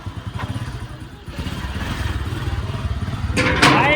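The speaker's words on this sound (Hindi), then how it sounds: "साइड हो जाओ, साइड हो जाओ, बाइक आ रही है" A motorcycle engine runs with a steady low pulsing throb that grows gradually louder as it approaches on a village lane, with a brief higher clatter near the end.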